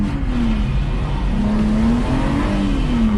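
A BMW E46 325 engine revs steadily and loudly from close range while the car drifts through transitions, with a sustained droning engine tone that rises and falls slightly throughout.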